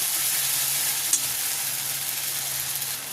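Tomato paste, salt, sugar and spices sautéing in a pan give a dense, loud, continuous hiss of frying oil, close and even, with one faint clink of a utensil.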